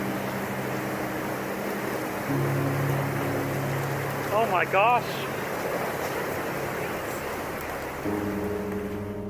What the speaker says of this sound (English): A massive wave of ice and water comes rushing down the river and under a bridge.